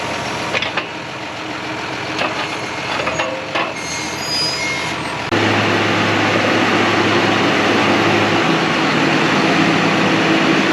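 A tractor loader works to scoop up a big rock dug up from about four feet deep, its diesel engine droning steadily and close, with clanks and scraping early on and a louder, sustained engine load in the second half.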